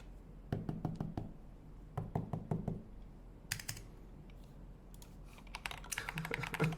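Keys clacking on a keyboard during a typing test, quiet and close, with irregular bursts of sharp taps, short pauses, and quicker flurries near the end.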